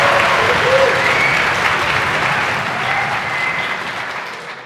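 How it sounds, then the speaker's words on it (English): Conference audience at a Python lightning-talk session claps loudly as a speaker leaves the stage, a full, sustained round of applause that gradually thins toward the end. "except in this one occasion where you're going to clap for me leaving the stage"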